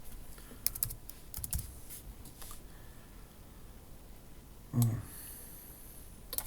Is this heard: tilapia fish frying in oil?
no